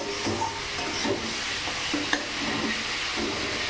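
Garlic paste, green chili paste, onion, nigella seeds and dried red chili sizzle in hot oil in a pan, a steady close frying hiss with a few stirring scrapes and one sharp click, no voices.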